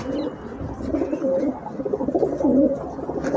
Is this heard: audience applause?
no